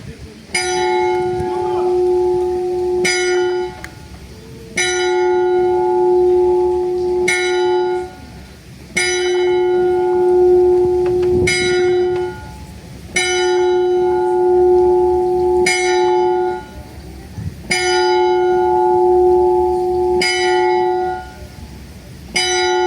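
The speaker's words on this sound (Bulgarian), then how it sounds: "Те бият църковната камбана." A church bell tolls repeatedly in a slow, even rhythm during a historical reenactment near Lovech, Bulgaria, each strike ringing out loud and sustained before the next.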